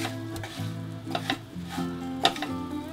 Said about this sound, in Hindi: इन चिप्स को मसालों के साथ प्रॉपरली मिक्स कर लेना है।